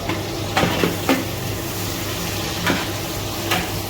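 Onions and green chillies fry in oil for biryani, a steady close sizzle broken by a few soft scrapes of stirring, with no talking.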